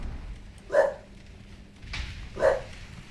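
A bulldog barks indoors, two separate single woofs spaced well apart, moderately near over a quiet room hum.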